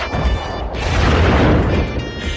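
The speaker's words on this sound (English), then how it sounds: "explosions. Missiles launched." Explosion and missile-launch effects for a podcast intro: a loud, continuous rumbling roar with a booming low end that swells through the middle and stays dense throughout, with no speech.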